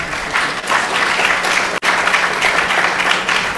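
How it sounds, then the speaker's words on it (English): Hearty applause from a temple audience at a Sunday feast talk, many hands clapping loudly and steadily, briefly cut off near the middle before resuming just as full. "Please give her a big round of applause."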